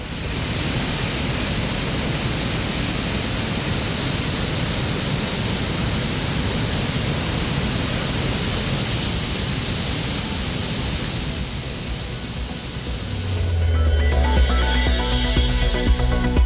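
Heavy water flow at the Courtallam waterfalls in Tamil Nadu makes a continuous, dense roar of rushing, crashing water. It holds steady, then shifts in tone near the end, with no voices.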